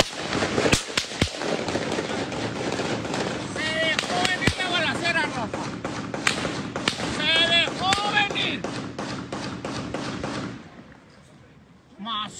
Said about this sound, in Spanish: Esos son balazos